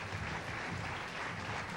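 A crowd at the 1983 Coke Handicap boys' bowling finals applauds a young bowler, a steady, dense wash of clapping that holds evenly for the whole moment with no voices over it.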